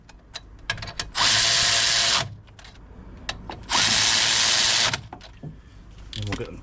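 Power tool winds bolts into a Nissan 370Z wheel bearing: two loud sustained bursts of driving whir, each roughly a second long, close up, separated by handling clatter and brief talk.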